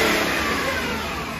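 A BMW X5 3.0 diesel engine revs while parked, a loud, close, sustained rumbling roar that eases slightly over a brief moment.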